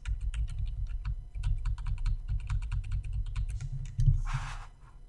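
Computer keyboard keys are pressed in a rapid, uneven run of close, crisp clicks, followed by a short louder clatter near the end.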